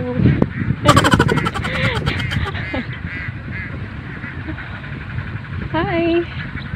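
A large flock of about 8,000 ducks in a rice field gives brief honking calls, with steady outdoor background noise and people talking nearby.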